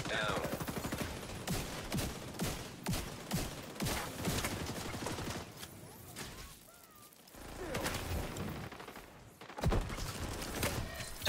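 Artillery bombardment in The Division 2, with a rapid run of heavy blasts and gunfire-like bursts pounding through the first half, a brief lull, then more impacts; a voice speaks intermittently underneath.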